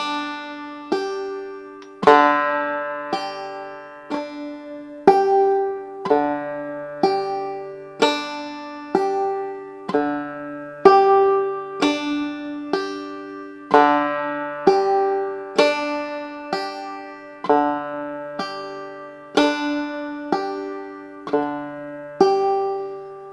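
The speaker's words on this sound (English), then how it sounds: "alternating between the first and the fourth string with a fifth string pluck in between" A clawhammer banjo plays a steady repeating pattern alternating between the first and fourth strings with a fifth-string pluck in between, bright, close and unaccompanied for over twenty seconds.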